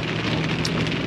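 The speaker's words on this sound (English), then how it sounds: "It's raining." Rain falling steadily outdoors, a dense, even hiss of drops on surfaces, close and fairly loud with no pauses or voices.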